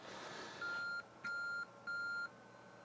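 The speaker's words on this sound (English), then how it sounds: "So lots of beeping there, actually." Three evenly spaced electronic beeps from a 1980s NABU PC computer starting up, each about half a second long, clear and fairly quiet against a faint background hiss.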